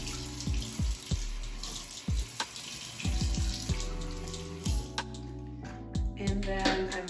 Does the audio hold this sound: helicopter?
no